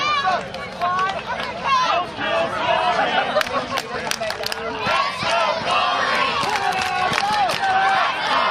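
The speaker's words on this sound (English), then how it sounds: "Crowd coming alive for Jason Gory here in the Ellsworth field" A large wrestling crowd at a baseball field event roars and shouts continuously, with excited yells and chatter rising over a dense, steady wall of cheering.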